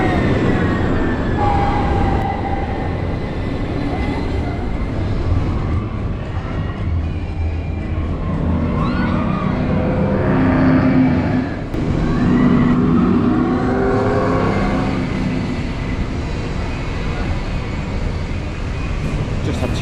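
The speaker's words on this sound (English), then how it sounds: "Two rides on Radiator Springs Racers, I think that's what it's called. Yeah, that was good fun." Radiator Springs Racers, a car-themed ride at Disney California Adventure, heard from a moving ride vehicle as a loud, continuous rolling rumble with whooshing and rattles, plus riders' voices and shouts mixed in over twenty seconds.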